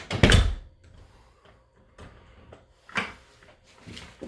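An interior door in a house opens and closes, with a loud thump at the start and lighter knocks and clunks following, close by in a quiet room.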